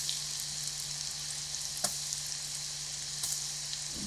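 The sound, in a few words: breaded eggplant frying in oil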